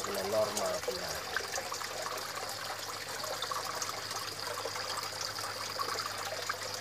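Water flows steadily through a small minimalist koi pond, a continuous close trickle and gurgle that holds at an even level throughout, with a faint voice briefly audible near the start.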